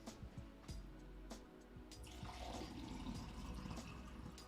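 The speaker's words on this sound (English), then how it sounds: "That's water, in case anyone's curious what that sound is." Water being poured or dripping close by, a steady liquid trickle and splash that builds and continues through the whole stretch, with a few sharp knocks near the start and no talking.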